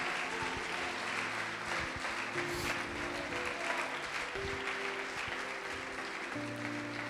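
Church congregation applauding steadily throughout, a dense, even wash of clapping with faint tonal music or organ underneath and no pause.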